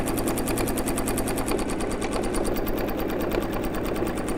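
Sewing machine running steadily as it stitches a tufted fabric Christmas tree purse, a continuous fast mechanical whir and rapid needle clatter, close and loud throughout with no talking.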